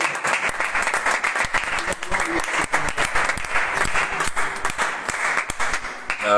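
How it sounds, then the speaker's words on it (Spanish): Vigorous clapping from a church congregation at a Bible study gathering rings out in sharp, rapid claps. It is loud and continuous, with a voice briefly mixed in among the hands. "Dale un fuerte aplauso a ti"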